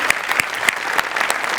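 A comedy show audience bursts into loud, dense clapping that continues without a break for the whole moment.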